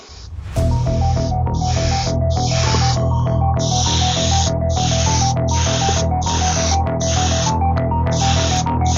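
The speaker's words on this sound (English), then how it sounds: "I just thinned it out a little bit more to put it in my airbrush so it would flow better" An airbrush sprays thinned paint onto a custom Fat Bob motorcycle flame paint job, giving repeated hissing bursts of about a second each, evenly spaced, over a steady tonal hum.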